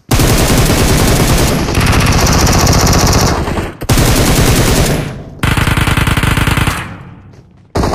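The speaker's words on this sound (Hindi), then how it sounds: "उतरते ही गोलियों की बौछार शुरू हो गई" Dense PUBG gunfire in the video game, with sustained automatic bursts and rapid shots that keep up almost without pause, briefly break, then resume loud and close before fading near the end.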